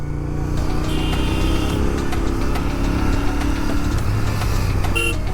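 Several motorcycle engines idle together at a Sunday bikers' meetup that includes a BMW and a Jawa, a steady, loud, close rumble with no talk over it.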